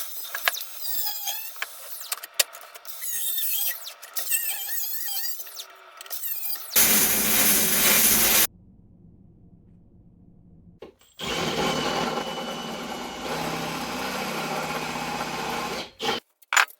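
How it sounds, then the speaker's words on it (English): An angle grinder cuts steel pieces loose for a welding table build, with a loud, sustained grinding whine in two long bursts separated by a quiet pause, and lighter mechanical clatter before it. "Cut these out with the angle grinder."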